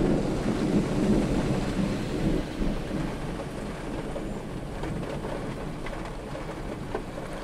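Heavy monsoon downpour in Satara with rolling thunder, a dense continuous roar of rain and low rumbling that stays loud and steady, easing slightly after the first few seconds.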